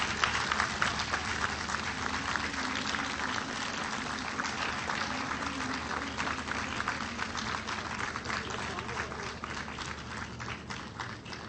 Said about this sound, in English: Please a round of applause for this launching ceremony.